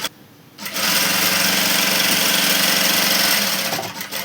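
Sewing machine stitching a straight seam along folded fabric for an umbrella frock: after a brief quiet start, a loud, steady mechanical whir runs continuously at close range.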